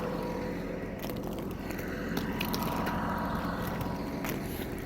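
Case IH MX120 tractor engine droning steadily while spreading straw for bedding, a continuous loud low rumble with mechanical clatter and no gaps throughout.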